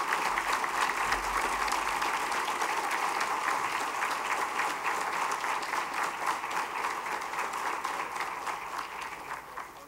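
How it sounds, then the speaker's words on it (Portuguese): A large audience at a formal solemn session rises in a standing ovation, sustained dense applause filling the hall steadily for about ten seconds before tapering slightly at the end, with no talking over it. "em pé, dando uma grande salva de palmas para ele como grande homenageado."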